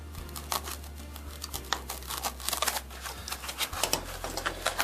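Kaizen foam being cut by hand for gun sights in a Pelican case insert, a steady stream of close, scratchy, crinkling cuts and scrapes over a low continuous hum.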